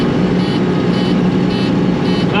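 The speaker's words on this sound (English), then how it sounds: "That's the alarm saying that we're full." A grain-tank-full alarm on an old V8 combine harvester beeps in a steady, evenly spaced pattern under loud, constant engine rumble.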